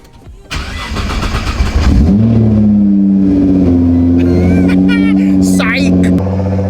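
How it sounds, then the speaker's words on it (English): Nissan GT-R R35 engine cranking briefly, catching and flaring up loud, then settling into a steady, close, throaty idle, with a few faint clicks and scrapes in the background. "So, let's start the car."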